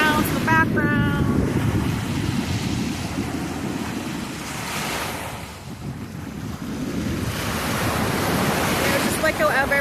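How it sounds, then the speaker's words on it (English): Ocean waves crashing on a beach on a pleasant evening, a steady, loud roar of surf mixed with strong wind buffeting the microphone, swelling and easing across the stretch with no talk. "Nice evening at the beach with crashing beach waves"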